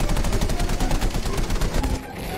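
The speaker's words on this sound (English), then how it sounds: "I shot him as he was bailing out!" Dense bursts of rapid gunfire in the World War II shooter Battlefield 5, loud and continuous for about two seconds before cutting off, with faint voice chat beneath.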